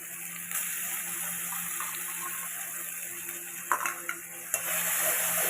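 Tomato, chilli and spices frying in a pan for an eggplant curry, a steady soft sizzle running throughout with a few brief clinks and stirring knocks near the end.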